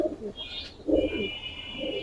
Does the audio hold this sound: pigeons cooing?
yes